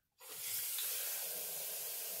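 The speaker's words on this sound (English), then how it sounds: "So we're gonna measure out our water." Water for cold brew coffee runs from a tap into a measuring container, starting abruptly and continuing as a steady close hiss with no talk.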